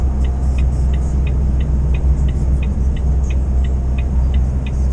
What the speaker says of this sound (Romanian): eu sunt pe coborâre și încerc să țin și din frână de motor, dar și din frână un pic